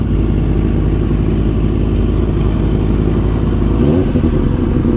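Sport motorcycles such as a Yamaha R7, R6, R1 and a Suzuki GSX-R600 idle and rev loudly at night as riders set off home, a dense close engine rumble with a swell of throttle near the end.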